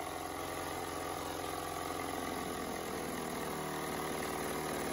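A 1967 Mercury 3.9 hp outboard motor idles with a steady, even running drone at moderate volume throughout, with no talk over it.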